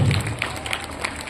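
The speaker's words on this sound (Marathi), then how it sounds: "त्या सर्वांसाठी आपण या ठिकाणी जोरात टाळ्या वाजवून त्यांचं या ठिकाणी आपण अभिनंदन करू" An audience at a school's annual gathering claps for the students in a brief burst of dense applause, fairly close, with a faint murmur of voices beneath.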